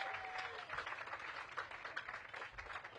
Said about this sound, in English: We have to give Miss Van Joy a big round of applause for that one.